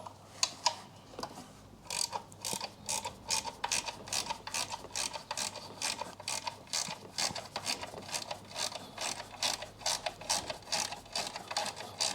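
A ratchet works loose a 10mm bolt on a 2001 VW Beetle 1.6 petrol 8-valve, with rapid, evenly repeated close clicking that runs steadily throughout.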